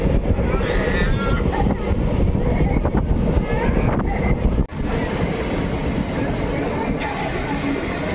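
Passenger train travelling between Adra Junction and Murati station, a steady loud rumble of wheels and rushing wind with a brief dip partway through, continuous throughout.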